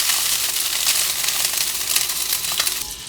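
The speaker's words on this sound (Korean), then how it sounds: "크래미를 넣어 볶아줄게요" Crab sticks seasoned with salt and pepper sizzle steadily in a hot pan, a dense continuous crackle with no one speaking.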